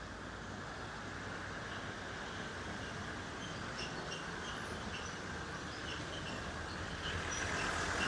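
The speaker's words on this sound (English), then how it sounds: "Here the tourist train." A small two-car tourist train in Ponta Delgada, São Miguel, Azores, rumbles steadily past with a continuous clattering roar, swelling a little louder toward the end, with no voices.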